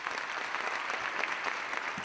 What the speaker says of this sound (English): So give a round of applause for Erla Joseph, everyone.